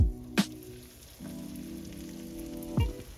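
Breaded, egg-washed chicken sizzles in a frying pan, a steady close crackle and hiss running the whole time, with a few sharper utensil knocks at the start and near the end.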